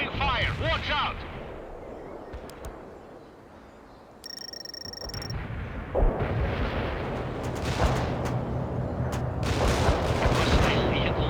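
Incoming artillery and gunfire from the video game World in Conflict, a dense battle mix with repeated sharp impacts and a bright tonal beep, building louder after the middle, with voices talking over the fighting.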